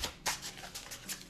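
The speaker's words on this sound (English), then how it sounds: "I love the way these cards shuffle too." A tarot card deck is shuffled by hand up close, giving a run of crisp, papery riffles and flicks in uneven bursts, with one sharper snap near the start and no talking.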